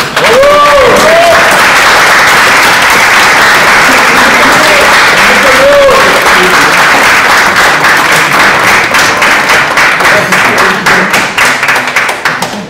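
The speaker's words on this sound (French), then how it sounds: "On les applaudit." Loud, sustained applause from an audience at a French political talk as attendees stand, dense clapping filling the room throughout and slowly tapering near the end, with a few voices mixed in.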